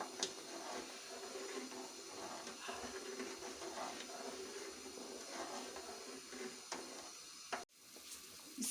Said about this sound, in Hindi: इसको बॉयल आ चुका है